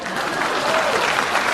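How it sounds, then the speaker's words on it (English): A short burst of steady applause from a crowd, a dense wash of clapping filling the whole moment with no break. "Please clap."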